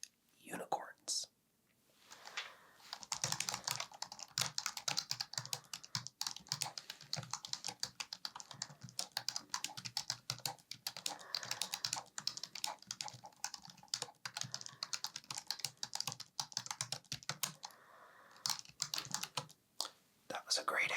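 Soft, uneven tapping on a computer keyboard continues at close range, with whispering threaded through the keystrokes.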